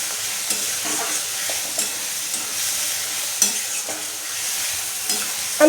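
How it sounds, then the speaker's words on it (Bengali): A paste of tomato, ginger, garlic and chili sautéing in a pan, giving a steady close hiss of frying with intermittent scraping stir strokes and soft bubbling pops throughout. "এখন এই মশলাটা কষিয়ে নিই।"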